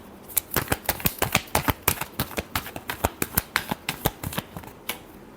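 Tarot cards are shuffled in a quick, even run of crisp riffling snaps, close and distinct, about twenty flicks in steady rhythm.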